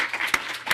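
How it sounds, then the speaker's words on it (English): Brief applause from an audience at a university campaigns class presentation, clapping dense and close, with a sharper burst near the end. "One round of applause."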